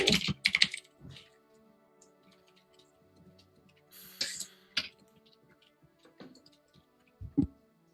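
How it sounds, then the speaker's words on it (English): Typing on a computer keyboard, close and clear, in short bursts of rapid clicks separated by quiet pauses, with a few louder key strikes near the end. "I love that you can hear me typing"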